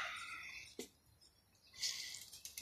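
Birds nesting inside an old barn call in short, fairly faint bursts, one near the start and a louder cluster after the midpoint, with quiet stretches between.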